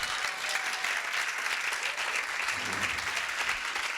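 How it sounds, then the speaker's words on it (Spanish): Steady, dense applause fills a hall at a tarot congress in Barcelona, continuous and even throughout as the audience welcomes a speaker onto the stage. "fuerte aplauso para Antoni Amaro."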